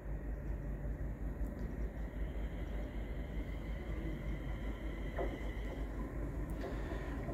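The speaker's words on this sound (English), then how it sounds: "a train is here" A train arriving at a station in Coventry, a steady low rumble and hum filling the whole stretch, with a faint squeal or clank partway through.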